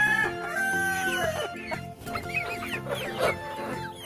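Three-month-old farm chickens cluck and crow together, a dense, busy chorus of overlapping calls that sound close by and continue without pause.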